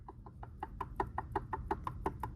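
Rapid, regular metallic knocking from an engine with a cheap, faulty piston, about six taps per second, steady and fairly faint over low background rumble.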